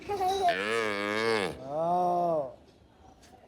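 A cow on a farm gives two long, loud moos close by, the first rising and held, the second shorter and falling away into quiet.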